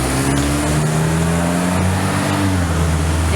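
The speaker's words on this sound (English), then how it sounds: "it is a lovely machine, the Porsche" A Porsche engine revs steadily and loudly up close, a continuous throaty drone with rising and falling pitch throughout, no voices.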